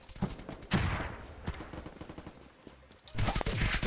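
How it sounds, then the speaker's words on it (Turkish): Rapid gunfire from a weapon in the Unturned game, bursts of shots, quick and moderately loud, with a heavier burst near the end. "O nasıl bir silah lan öyle? Kim sıkıyor onu?"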